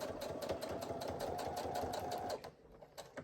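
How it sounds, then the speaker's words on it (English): Sewing machine back-stitching a zipper pouch: rapid, even mechanical stitching hum up close for about two seconds, then stopping and leaving quiet handling sounds. "And I'll do a back stitch at the end."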